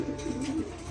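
A pedigree racing pigeon coos softly nearby, a low rolling burble in a short loft setting.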